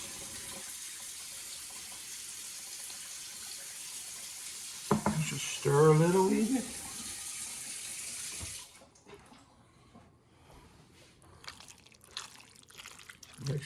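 Tap water floods into a pot of soaking beans for traditional Newfoundland baked beans, a steady close rush with sloshing bursts midway before it stops, followed by quieter handling noises and a brief spoken remark.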